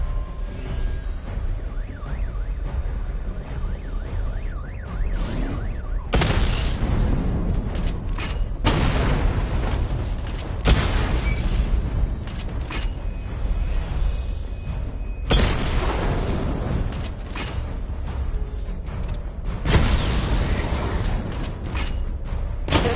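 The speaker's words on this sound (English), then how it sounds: "Charge the missile barrage to level 2 to destroy up to 4 targets at once." Missile barrage explosions in a video game: heavy booming bursts arrive in several loud waves, each rumbling broadband blast lasting a second or two between quieter mechanical hum.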